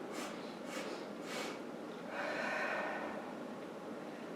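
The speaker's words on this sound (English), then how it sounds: "Sniffing." Several short, sharp sniffing inhales in quick succession during a yoga breathing exercise, followed by a longer, breathy exhale, close and clear with no talking.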